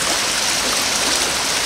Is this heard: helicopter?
no